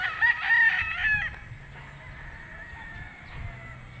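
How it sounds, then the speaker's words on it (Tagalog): Fighting roosters: one crows loudly at the start, followed by quieter clucking and faint fowl sounds in the background, at a gamefowl farm. "Daming manok."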